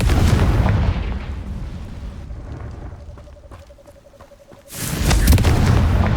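A Confringo fire spell explosion in Hogwarts Legacy: loud booming blasts at the start and end with a quieter crackling, rumbling stretch between, no voices.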